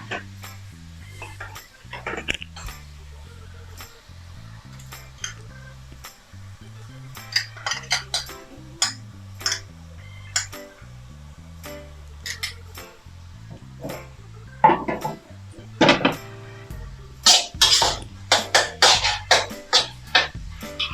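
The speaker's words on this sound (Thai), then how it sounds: "แล้วก็ผัดต่ออีกแป๊บเดียวค่ะ" Minced pork cooks in a pan with sugar, fish sauce, seasoning sauce and oyster sauce, heard as repeated metal spatula clinks and scrapes against the pan in irregular bursts, close up, with no talking.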